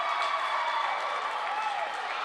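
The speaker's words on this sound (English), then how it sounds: "Mystics fans cheering loudly from that great play" Fans of the Mystics women's volleyball team cheer and clap in a university gym after a big hit, a sustained crowd roar with applause at a distance, fairly even throughout.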